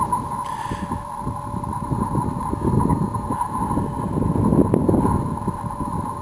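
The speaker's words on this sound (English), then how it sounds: "It's always pretty windy up here." Steady wind rushes across high-elevation open fields on a Bradford County, Pennsylvania farm, a continuous low buffeting roar on the microphone with gusts swelling near the end and no talking.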